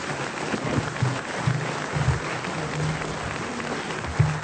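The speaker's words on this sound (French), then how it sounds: "Le public de Serre Chevalier vous applaudit" Audience at Serre Chevalier applauds at the close of a French radio show, a moderate, steady patter of clapping with a faint low hum beneath.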